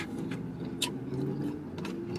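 Cars racing and revving somewhere outside, a steady mid-distance engine drone with brief swells, no talk over it.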